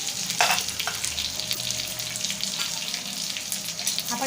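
Stuffed capsicum, bharleli shimla mirchi, fries in an uncovered pan with a constant, close sizzle and a few soft clinks near the start.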